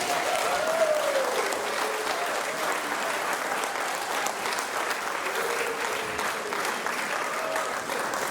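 An audience at a business presentation applauds the CEO of Dacxi Australia, steady sustained clapping from a full room at moderate level, with faint crowd murmur underneath.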